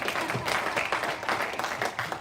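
A church congregation claps during a Palm Sunday service. Many hands make a lively, even patter of applause that lasts the whole moment, with nothing else heard over it.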